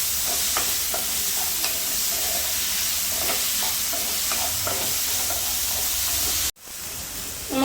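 Tomatoes sauté in a pan in a home kitchen, a constant sizzle and hiss with the clatter of stirring. The sound cuts off abruptly near the end, then the sizzling resumes.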